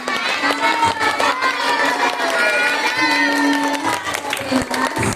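Audience at a parenting seminar held at an elementary school, cheering and shouting with children's voices prominent and some clapping, a loud, continuous crowd roar throughout.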